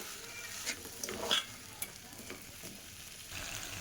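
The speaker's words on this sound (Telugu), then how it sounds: "చూడండి ఇప్పుడు ఇలా మనకి బంగాళదుంపలు వేగుతున్నాయి కదండి." Potatoes fry quietly in a pan with a soft, low sizzle. A few scattered scrapes and taps come as they are stirred, and no one speaks.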